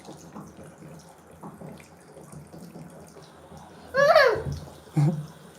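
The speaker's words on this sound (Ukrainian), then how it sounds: "Давай, включаємо водичку." A tap runs indoors, giving a steady low wash of water under a child's babbling and an adult's speech, with a louder splash or clatter near the end.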